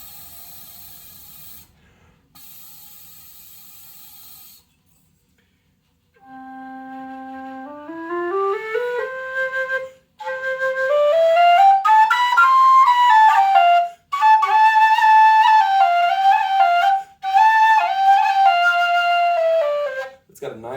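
A Reviol narrow-bore low whistle plays a slow melody with clear, breathy sustained notes that climb and hold, after an opening of faint airy hiss, close and loud with brief breath gaps between phrases.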